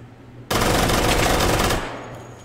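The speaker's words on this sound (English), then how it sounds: "I prefer to use it on full auto because it's KRISS Vector." A KRISS Vector submachine gun fired on full auto in the VR shooter H3VR: one abrupt, very rapid burst of about a second and a half, loud and close, ending in a ringing decay.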